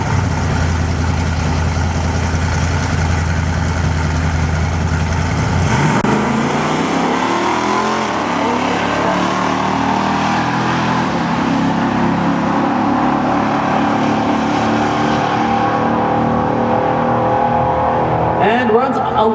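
A Buick race car at a drag strip runs loud and close, its engine note rising hard through the gears as it accelerates away, then fading into the distance.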